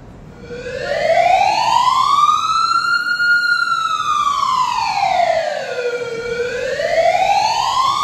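An emergency siren wails loudly and close, its pitch sweeping slowly up and down in long continuous cycles with no speech.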